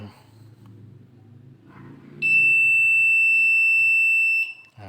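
An obstacle-warning cane for the blind gives a loud, piercing electronic tone that holds steady for over two seconds and then cuts off, following a stretch of someone talking.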